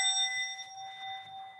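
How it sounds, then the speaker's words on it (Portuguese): A small ritual bell rings once, its clear metallic tone lingering and slowly fading, close and moderately quiet. "um pequeno sino"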